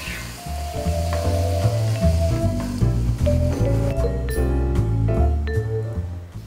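A splash of white wine added to squid frying in a pan, a loud continuous sizzle with stirring and scraping of utensils, close up with no voices.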